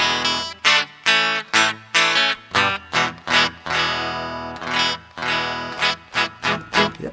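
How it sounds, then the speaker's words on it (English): A 1968 Danelectro Coral Firefly electric guitar on an out-of-phase pickup setting, thin and nasal with effects coloring, playing loud choppy strummed chords in a repeating rhythm with a few longer ringing stretches. "That might just be an out of phase setting on this guitar."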